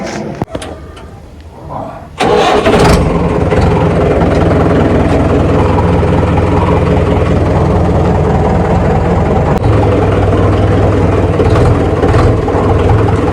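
A few clunks and a door-like slam, then a tractor engine starts and idles with a steady low rumble, loud and close.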